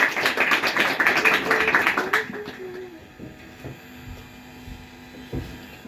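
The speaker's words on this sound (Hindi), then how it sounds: "एक बार जोरदार तालियां रानी कुमारी के लिए" An audience at a National Youth Day event claps for performer Rani Kumari, a dense burst of applause that fades after about two seconds into quiet room noise with a few scattered claps.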